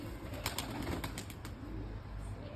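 Pigeons in a loft, soft low cooing blended with a brief flutter of wings and a steady background hum, moderately faint and continuous, no talk.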